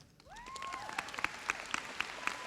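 A few scattered, evenly spaced claps ring out at the Fox Tech High School class of 2017 graduation ceremony in San Antonio, greeting a group of graduates. A thin whistle sounds first, and the whole sound is quiet and distant in a large hall.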